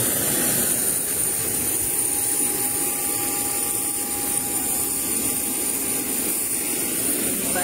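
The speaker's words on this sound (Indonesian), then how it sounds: "Pesawat Lion Air yang akan membawa kami ke Makassar, nomor kursi 35." A Lion Air passenger jet's engines, heard from inside the cabin on a flight from Kendari to Makassar, make a continuous broad roar and hum at an even level throughout, with no talking.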